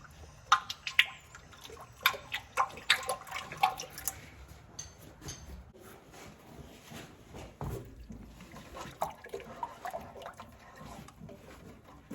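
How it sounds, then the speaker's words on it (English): Old oil mixed with water drains from a Massey Ferguson 50 tractor, an uneven trickle and drip that is faint and close, with irregular splashy spatters over about twelve seconds. "We're going to let that drain for a little bit, let most of that bad oil drain out of it."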